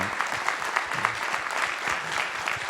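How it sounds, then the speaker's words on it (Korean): Warm applause from a forum audience at a digital economy strategy event with presidential candidate Moon Jae-in, a dense, even roar of clapping, close and steady throughout with faint voices beneath. "다시 한번 뜨거운 박수 부탁드리겠습니다"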